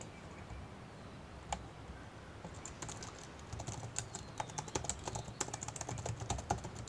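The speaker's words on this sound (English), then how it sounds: "I'm just going to type because this thing is really difficult to write with" Typing on a computer keyboard while working through a past exam paper: quiet, irregular key clicks that grow denser and livelier after a few seconds, close by with no talking.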